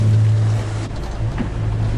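Sea swell at a harbor entrance to an anchorage in the Bahamas, churning and sloshing steadily against the hull of a sailing boat, with a low engine or wind rumble underneath, close and fairly loud with no talking.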